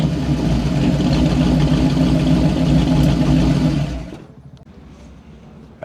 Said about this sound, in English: That's a nice sounding car right there.